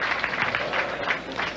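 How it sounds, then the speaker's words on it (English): Bowler Rick Lawrence claps for himself after a good shot at a bowling tournament, with a brief spell of soft, steady clapping and faint crowd noise behind it. "Rick Lawrence gives himself a round of applause"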